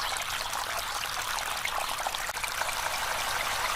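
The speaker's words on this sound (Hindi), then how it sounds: "एक तेज पानी का फंवारा निकला" Strong water fountain gushing up out of a dry pond in an animated scene, a steady broadband rush of splashing water that stays even and loud throughout, with no voices.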